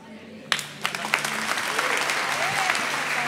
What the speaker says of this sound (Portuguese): Vamos aplaudir a Paty aqui